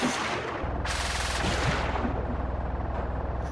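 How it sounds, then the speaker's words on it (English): Automatic cannons on a Trailmakers vehicle fire without pause in a fast, steady, loud stream of shots that runs from start to finish, with no talking. "this one has automatic firing cannons, so I actually don't control the cannons on the side"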